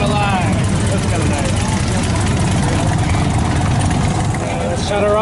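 An Indian Sport Chief motorcycle engine idles at a motorcycle show, giving a steady, fairly loud, moderate rumble close to the microphone that runs unbroken throughout.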